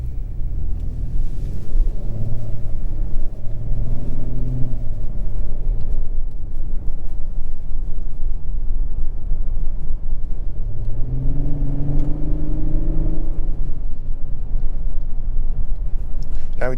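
Cabin engine drone of a 2023 Lexus LS500 AWD in sport mode: a steady low rumble that rises in pitch twice as the car pulls harder, heard from inside the car and holding constant in level.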